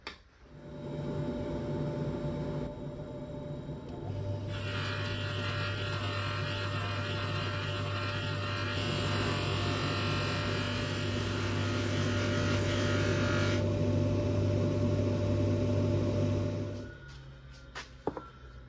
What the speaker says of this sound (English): I'm going to go ahead and give them a buff.